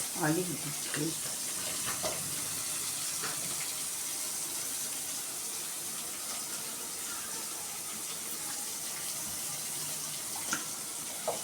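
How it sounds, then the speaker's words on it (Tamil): Onions sauté in a pan toward golden brown for a chicken thokku kulambu, making a continuous hissing sizzle at moderate level. A brief voice sounds near the start. "இந்த வெங்காயம் நல்லா வதங்கட்டும்"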